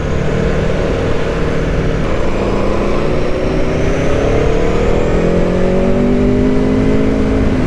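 A 2021 Aprilia Tuono V4 1100 Factory motorcycle engine pulls hard through rising revs, loud and close with a steady roar and climbing pitch, alone without talk.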